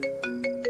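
A mobile phone ringtone plays a bright repeating electronic melody, four quick pulses over a steady tone, ringing on unanswered at moderate volume with no voices.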